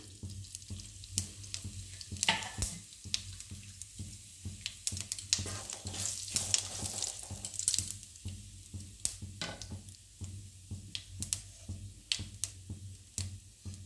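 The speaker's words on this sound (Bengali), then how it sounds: "জিরেটা ফোড়নটা ফেটে গেছে" Cumin seeds and a split chili tempering in hot oil in a karai for Bengali jackfruit curry sizzle and crackle steadily up close, with sharp pops scattered throughout.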